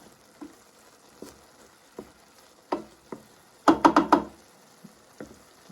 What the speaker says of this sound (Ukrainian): І тоді викладаю сюди нарізані грибочки. Грибочки тримаємо на пательні до тих пір, поки випарується вся оця волога.